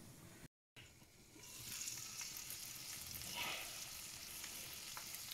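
Chicken frying in a pan on a gas stove over low heat, giving a faint, continuous sizzle that swells slightly partway through, with no talk.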